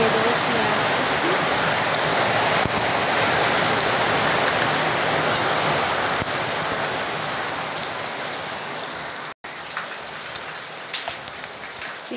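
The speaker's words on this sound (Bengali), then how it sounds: "এখানে খুব বৃষ্টি হচ্ছে, বৃষ্টির কারণে হয়তো কথাটা ক্লিয়ার আসবে না।" Heavy rain pours down steadily, a loud dense wash of drops that goes on without a break, easing slightly near the end after a brief dropout.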